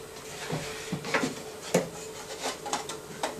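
Assembled, stapled wooden frames are pulled out of an assembly jig clogged with glue residue, giving a series of rubbing scrapes and hollow wooden knocks at irregular intervals, fairly close and moderately quiet.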